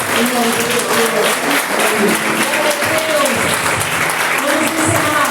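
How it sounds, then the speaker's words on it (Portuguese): A church congregation claps together throughout during a communion service in Rio Claro, a dense, loud, continuous wash of applause with voices mixed in. "aplauda o Senhor, em nome de Jesus."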